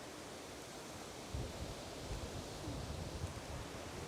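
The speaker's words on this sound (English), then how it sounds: "I don't know if you can tell how windy it is" Strong gusting wind roars over a KTM 1290 Adventure S motorcycle ride, a dense, continuous broadband rush with louder buffeting surges partway through.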